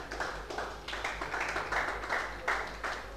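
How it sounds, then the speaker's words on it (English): Audience applause at a literary festival breakout session, a steady crowd of clapping hands sustained throughout with slight swells in intensity. "Round of applause, please."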